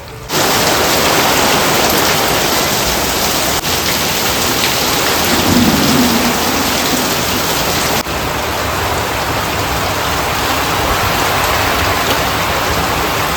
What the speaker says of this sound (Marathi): हा बघा कंटिन्युअसली पाऊस चालूच आहे. हा बघा सर्व वारा वगैरे चालू आहे